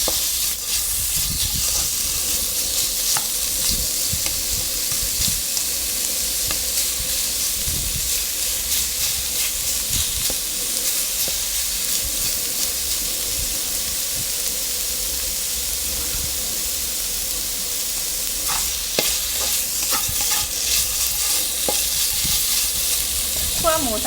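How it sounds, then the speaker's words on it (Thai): Pork belly sizzles steadily in a dry pan with no oil as it is stir-fried, a constant loud hiss with occasional scrapes of the spatula and no talk. "ค่อยๆคั่วแบบนี้ค่ะ ไปเรื่อย ๆ ให้ไฟให้อ่า ให้น้ำมันเขาออกมาสักเล็กน้อยนะคะ"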